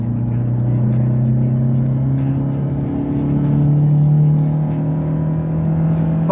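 A Mercedes W124 engine pulls hard in second gear, its steady loud drone rising in pitch across the whole stretch with no voices over it.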